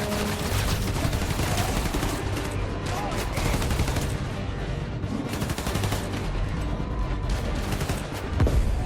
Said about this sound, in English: Police and escapees are shooting it out.